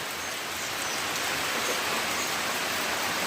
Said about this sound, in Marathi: आज कसा धो धो धो धो नाही पडत रिमझिम पडत आहे